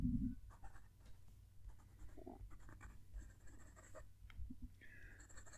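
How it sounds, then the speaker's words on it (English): A fountain pen scratches across paper in short, faint strokes, recorded close to the page in a quiet room, with soft intermittent scratching and brief pauses. "Going to move the mic down to the page so you can hear the pen write."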